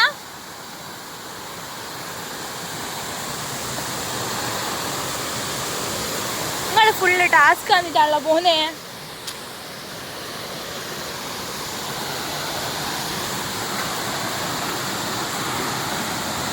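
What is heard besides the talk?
river water flowing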